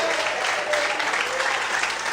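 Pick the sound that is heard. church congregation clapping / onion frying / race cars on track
church congregation clapping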